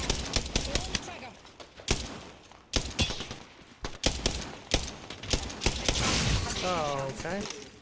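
Gunfire in the video game Apex Legends, with repeated sharp bursts and volleys cutting through a busy mix while a voice talks over the shooting.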